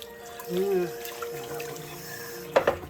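Tap water runs into a sink while soapy hands are washed under it during bread-roll making, a steady close wash with a few louder splashes near the end, heard under a voice talking.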